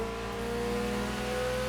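BMW Z sports car engine in the racing game The Crew Motorfest, a steady close droning hum held at an even pitch with no one speaking.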